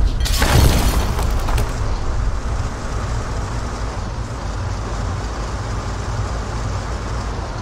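A single artillery gun fires in the war game Foxhole, a loud sharp blast at the start that rolls off into a steady low rumble of ambient battlefield noise.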